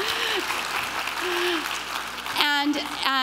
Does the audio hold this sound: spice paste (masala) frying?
no